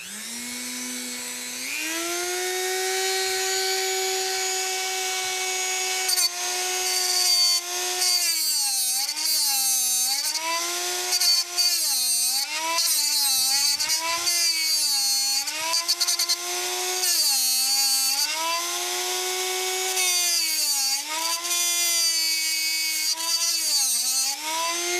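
A 3D printed grinder sharpening TIG tungsten electrodes whines loudly and steadily, its pitch dipping and rising repeatedly as each tungsten is pressed against the wheel, close up with no talking.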